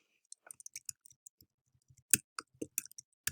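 Keys on a scientific calculator are pressed in a quick, uneven run of small sharp plastic clicks, close and alone, with a few louder taps near the end.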